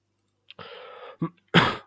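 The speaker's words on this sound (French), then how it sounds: "Excusez-moi si je tousse." A person coughing and clearing the throat, a short close rasp followed by two quick harsher coughs in a brief burst, heard alone against silence.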